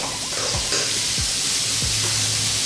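Onions, garlic and chilli sizzle steadily in a hot pan for Sri Lankan cooking, a loud continuous frying hiss with a few low knocks from stirring.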